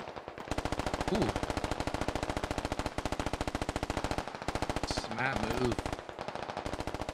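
Sustained machine-gun fire in a military shooter game, a rapid, even stream of shots at moderate distance with brief gaps, while someone talks over it.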